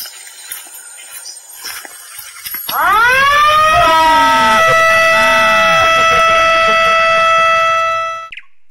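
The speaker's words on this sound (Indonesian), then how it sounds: "ada sirene yang akan mengeluarkan bunyi cukup keras" After quiet outdoor background noise, a loud electronic elephant deterrent siren blares suddenly, wailing with rising and falling tones for several seconds before cutting off.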